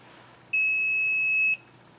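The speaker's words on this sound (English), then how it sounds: "Alright, we'll fire up the scanner, see what kind of information we can get." A single steady electronic beep lasting about a second sounds from a diagnostic scan tool connected to a 2010 Audi Q5 with a misfire, clear and alone over faint background hiss.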